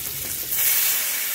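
Tomatoes and black cumin hit hot oil in a pan, making a brief, close, loud sizzle that swells slightly as the ingredients settle and keep frying.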